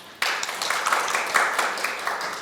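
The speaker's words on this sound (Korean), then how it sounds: "열정적으로 컨설팅을 해주신 이재정 박사님께 뜨거운 박수를 부탁드립니다" Applause bursts out suddenly at a Korean district social security council results-sharing event, a room of attendees clapping warmly for a consultant and carrying on steadily, fairly close, with no talk over it.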